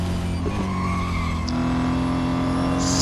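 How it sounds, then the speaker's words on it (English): Race car in Real Racing 3, a Mercedes-AMG GT4 on track, skidding with a sustained tire squeal over a steady, loud engine drone. "Skidding, not ideal, but at least I managed to keep it on, keep it on the track."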